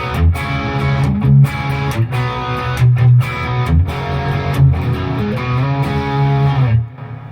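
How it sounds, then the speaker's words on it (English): An electric guitar through its bridge pickup with heavy distortion plays a loud, driving rock riff of chugging chords and sustained notes, then cuts off near the end. "I bet that bridge sounds really good with some distortion on it."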